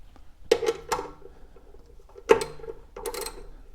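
Metal clicks and ratcheting turns as a bolt is tightened on the arm of a WEN 6-inch bench grinder, model BG4276: a few close, moderate clusters of mechanical clicks spread across a quiet workbench, with no talking.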